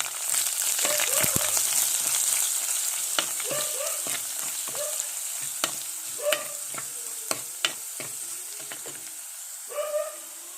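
Chopped ginger and slit green chillies sizzling in hot oil for a fish curry, a continuous bright hiss broken by sharp spatula scrapes and taps against the pan at irregular intervals, close and clear with no voices.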